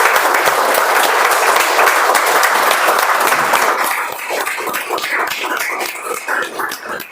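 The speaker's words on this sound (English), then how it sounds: "let's give a thunderous round of applause for all the role takers for today's meeting" An audience at a club meeting gives the meeting's role takers a thunderous round of applause: dense, loud clapping for about four seconds that thins out and fades toward the end.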